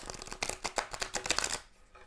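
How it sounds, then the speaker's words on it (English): A stiff, brand-new mass-produced tarot deck is riffled and shuffled close up, giving a rapid, crisp flutter of card clicks for about a second and a half before tapering off, with no talking. "after a couple of times when I do shuffle them, they're going to be, much easier to shuffle"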